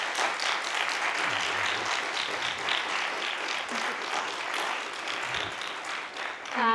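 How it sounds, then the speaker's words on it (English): A seated audience at a film festival talk gives steady, sustained applause for the film's director, even clapping from many hands lasting several seconds, with a voice starting to speak at the very end. "Please give her a special applause."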